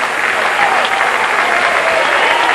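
A stadium crowd at a 1992 Washington State versus Oregon college track and field dual meet applauds a long shot put throw, steady loud clapping spread across the stands for the whole stretch, with a commentator's voice over it.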